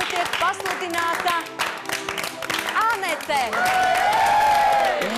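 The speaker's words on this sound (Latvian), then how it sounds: "Fanfārām skanot, aplausiem, nebeidzot rimties." Audience applause with a fanfare at a Latvian pageant-style stage show, steady clapping under a voice calling out a name, with brassy tones rising toward the end.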